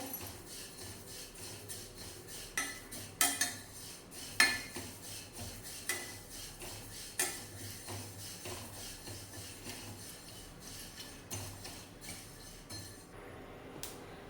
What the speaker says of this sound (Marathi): हे दोन मिनटं आपण चांगलं खमंग अशी तीळ भाजून घेऊया